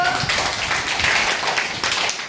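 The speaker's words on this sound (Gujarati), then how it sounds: "તાળી પાડો ચલો" Children in a classroom clap together, a short burst of quick, uneven hand claps heard nearby.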